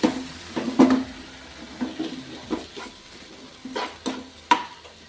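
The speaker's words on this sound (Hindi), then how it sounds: "अब इसमें हम सारा अदरक डाल देंगे। अब इसको हम अच्छे से चला लेंगे।" Ginger being stirred in a pan on the stove, a spoon scraping and clinking against the metal in irregular strokes over a faint sizzle, close and fairly quiet.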